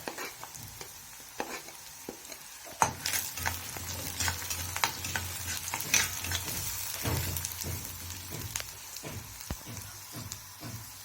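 Ginger and garlic fry in a pan, sizzling that swells louder partway through, with repeated spoon taps and stirring scrapes close up and no voices.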